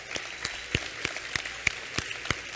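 Church congregation clapping for volunteers during a service: faint, sharp, evenly spaced claps in a slow steady rhythm, about three per second, over quiet room tone.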